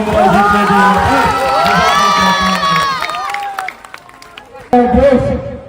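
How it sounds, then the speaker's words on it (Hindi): A crowd at a politician's speech cheers and shouts enthusiastically with scattered clapping, voices rising and falling before fading, then a brief burst of noise near the end. "मैं चाहता हूं एक बार जोरदार ताली आप लोग"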